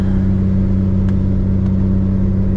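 A turbocharged 3800 Camaro engine drones steadily under a light rip in 4th gear, a loud, close, even hum with a couple of faint ticks.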